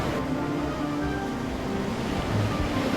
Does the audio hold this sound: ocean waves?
yes